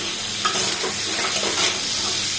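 Beef chow mein with sliced onion frying and being stirred in a pan, a steady close sizzle with scraping stir strokes throughout, no talking.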